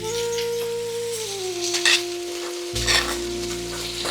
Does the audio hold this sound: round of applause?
no